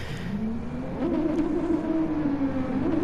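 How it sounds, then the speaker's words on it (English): A GT3 race car engine revs up on the grid at Suzuka in a racing video game, a loud droning note that climbs in pitch after the first second and then holds high and steady. "the revs build up"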